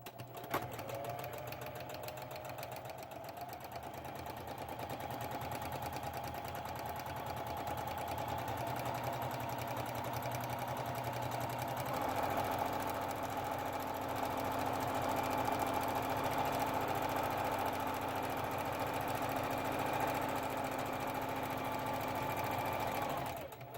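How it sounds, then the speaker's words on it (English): Sewing machine running steadily, stitching a second seam alongside the first on a round-bottom bag; a continuous, fairly close motor hum with a fast stitching rhythm, shifting slightly in pitch midway and carrying on to the end with no talk. "I like to go right back and do a second seam right alongside it on the outside"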